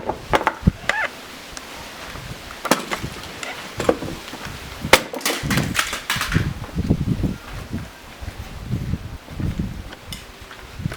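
A karambit knife repeatedly strikes and hacks at a plastic gaming mouse, sharp irregular cracks and knocks with scraping and rustling between blows, close up, no talk.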